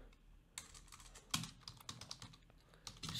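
Computer keyboard keys clicking irregularly as VBA macro code for an Excel pivot table is typed, close and fairly quiet, in short uneven bursts with brief pauses.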